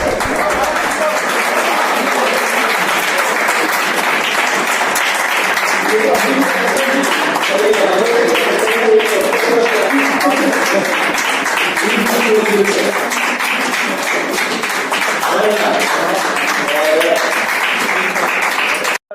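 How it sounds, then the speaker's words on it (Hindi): An audience at a National Sports Day celebration applauds steadily and loudly for nearly twenty seconds, a dense wash of clapping with voices mixed in underneath. "लोग तालियां बजा रहे हैं"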